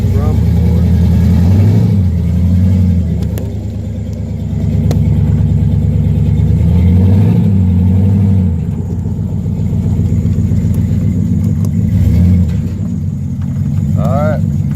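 A new-build turbocharged 6.0 Chevrolet 2500 HD truck engine runs and drives: a loud, steady low rumble that swells and eases as the engine revs up and settles, close and continuous throughout.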